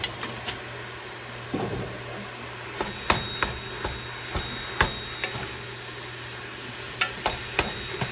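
Lamb burger meat in a cooking pot for chili, worked with a wooden spoon: a soft steady sizzle under repeated sharp scrapes and knocks of the spoon against the pot, irregularly spaced and close by.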